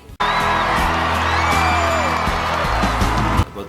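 A concert crowd in Hannah Montana: The Movie cheers and whoops loudly over pounding band music, a dense sustained roar that cuts off abruptly.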